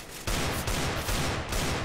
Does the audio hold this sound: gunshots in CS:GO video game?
yes